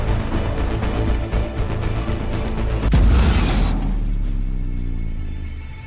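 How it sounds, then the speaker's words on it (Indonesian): A grenade explodes on the barrel of a German tank in a war film. A sudden loud boom cuts through a dense, rumbling mix of battle noise and then fades into a long, low, reverberant roar. "seorang infanteri Soviet berhasil melemparkan granat persis di laras tank itu yang mengakibatkan kerusakan parah"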